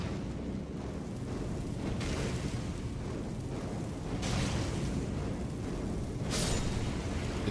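A fire spell cast in Elden Ring gives dense, roaring rumble with soft bursting swells, steady and loud throughout, with no talking.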